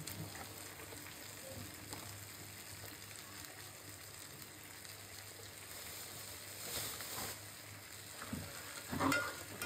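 Egg korma masala with sugar being sautéed in a pan gives a steady, low sizzle for the whole stretch, with a spoon stirring and scraping now and then. There are a few louder clatters near the end and no talk.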